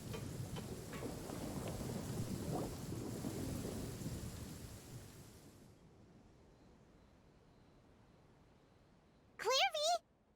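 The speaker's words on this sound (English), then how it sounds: "Heavy rain must be quite an inconvenience for you." Heavy rain in the game Genshin Impact pours with a low rumble of thunder, fading away after about five seconds, followed by near silence and then a short burst of voiced sound near the end.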